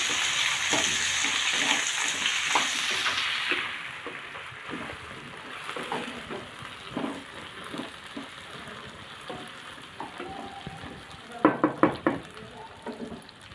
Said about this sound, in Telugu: వంకాయలు మగ్గింది వంకాయలు వేసుకుంటున్నా